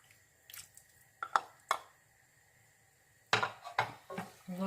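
Chicken pieces dropped back into a pot of simmering peanut sauce while cooking chicken mafé, giving a few separate wet clunks and squelches with clinking against the pot, close and fairly quiet, no talking.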